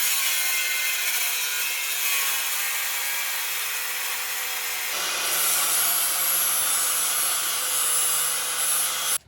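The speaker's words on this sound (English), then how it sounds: "It would be a lot easier with the reciprocating saw if I had the Jeep higher." Reciprocating saw cutting on the frame of a Jeep JL raised on jack stands, a continuous close buzzing drone that shifts to a harsher, louder cut midway before stopping abruptly.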